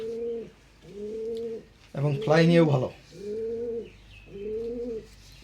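Racing pigeons coo in soft, repeated low phrases, four or five rounds close by, with someone speaking briefly in the middle.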